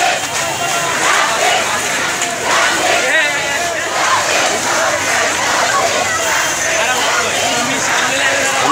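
Student protesters in Dhaka chant road safety slogans near Dhaka University, a large crowd's rhythmic massed voices rising and falling continuously, loud and close.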